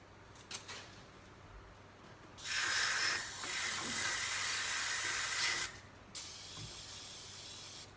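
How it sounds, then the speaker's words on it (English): A loud, steady aerosol spray of brake cleaner hisses for about three seconds during a Mazda Miata MX-5 crank repair, briefly dips, then stops, leaving quieter background noise with small clicks. "take your can of brake clean"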